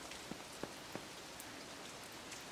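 Rain falling steadily in the game Long Gone Days, a soft continuous hiss with a few sharper drips tapping now and then, faint and even, with no voices.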